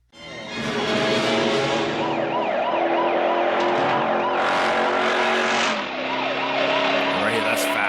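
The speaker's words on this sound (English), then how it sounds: "This cop here is like going fast through parking lots and jumps and stuff." A police car speeds through parking lots and jumps in a movie chase scene, heard as a loud, steady roar of engine and wailing siren through most of the stretch, briefly dipping near the end.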